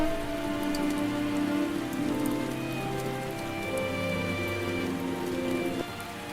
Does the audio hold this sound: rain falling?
yes